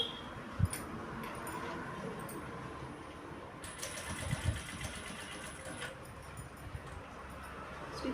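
A sewing machine stitches piping onto a blouse in a steady, moderately loud mechanical run lasting several seconds, with a few small clicks and taps along the way and no talking.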